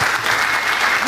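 A crowd at an MLK Day event applauds to welcome a speaker, with a thick, continuous burst of clapping, loud and close, holding steady for the whole brief moment.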